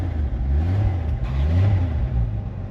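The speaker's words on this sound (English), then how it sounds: "it's just a smooth running engine" An '85 Ford Bronco engine idles smoothly nearby despite a rotted-out exhaust, a steady low rumble with a few gentle swells in pitch from throttle blips, heard on its own.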